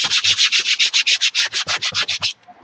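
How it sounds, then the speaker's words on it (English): A sanding block rubs back and forth on a scrapbooking flip album craft project, about fifteen quick, even, loud scraping strokes in a steady rhythm before stopping. "Okay, where's that sanding block of mine?"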